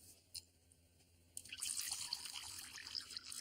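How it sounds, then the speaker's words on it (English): Water is poured into a pie pan holding a penny, starting after a short quiet pause with a faint drip. It becomes a soft, steady splashing trickle that continues to the end and is heard alone at close range. "Don't move, because I'm going to pour the water in."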